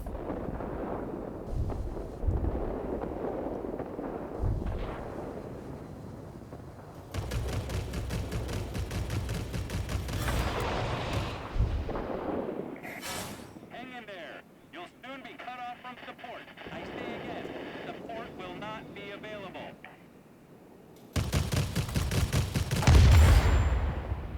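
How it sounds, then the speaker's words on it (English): Cannon fire from a Hawker Hunter jet in a combat flight simulator game, coming in loud bursts of rapid gunfire that alternate with quieter stretches of engine drone. "you can always tell when your guns are on"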